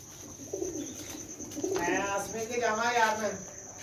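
Parwazi pigeons coo in soft, throaty bursts close by at a pigeon house, with a steady high hiss in the background.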